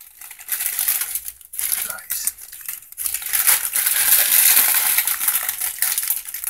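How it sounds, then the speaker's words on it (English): Plastic dice from a Team Yankee wargame miniatures kit are handled during unboxing, rattling and clicking against packaging amid crinkling plastic and paper, close and fairly loud in uneven bursts. "Of course, comes with the dice."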